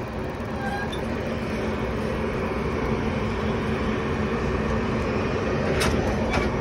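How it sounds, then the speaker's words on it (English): A seven-coach passenger train sits at a station about to depart, giving a steady, loud rumbling drone throughout, with a couple of brief higher squeals near the end. "here goes our last train about to depart"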